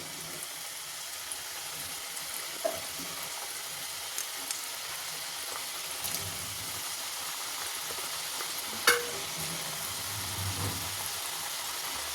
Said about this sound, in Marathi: तर आता हलक्या हाताने आपण बाकीच्या शंकरपाळ्यासुद्धा हळूहळू सोडून घ्यायच्या आहेत तेलात